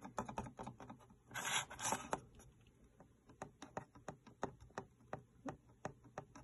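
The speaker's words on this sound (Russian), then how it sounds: "Это звук люфта, люфта мышки на столе." A loose Logitech Superlight mouse rocks against a flat desk and makes rapid, quiet clicking taps in an uneven rhythm. A brief rubbing scrape comes through partway in, and the sound stays close and faint, with no voices.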